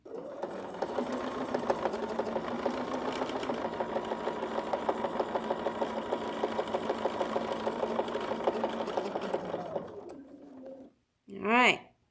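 Sewing machine running a straight stitched line across a quilt, a fast even mechanical chatter sustained for about ten seconds before stopping, followed by a brief voice.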